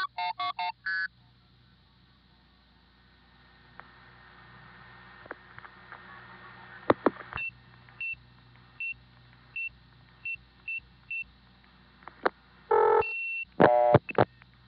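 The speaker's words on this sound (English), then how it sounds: "That was the old Warwick step ring." Old 1970s Warwick, New York step-by-step switch telephone line: opening bursts of tones, a faint hum, then a series of short evenly spaced ring pulses and clicks, ending in louder tone bursts.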